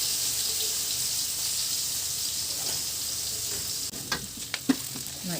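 Sambal goreng spice paste frying in a hot wok, giving a steady loud sizzle throughout with a few brief stirring clinks and bumps near the end.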